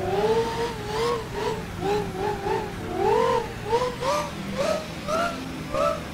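A Canter truck reverses in Euro Truck Simulator 2, its engine droning close by with a pitch that repeatedly rises and falls in short surges over a low steady rumble, with no talk.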